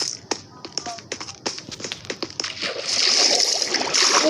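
Water in a multiplayer survival video game: a run of quick tapping, splashy clicks gives way to a continuous, bright flowing rush of water.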